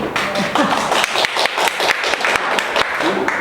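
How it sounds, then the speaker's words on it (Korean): Audience applause at a public meeting on a city budget in Uijeongbu, South Korea: steady, dense clapping from a seated crowd fills the room for the full stretch, close and even in loudness. "박수 한번 주세요"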